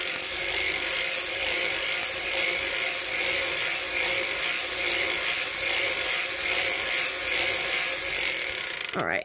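A 48-stitch circular sock machine cranks through rows of knitting with a continuous, close, even whirring and ratcheting clatter that holds steady throughout and then cuts off abruptly at the very end.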